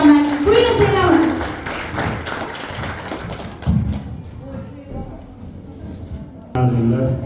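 Audience applause at a school graduation ceremony for primary pupils, a dense patter of clapping that swells briefly and then fades, with a speaking voice over the start and talk resuming afterward.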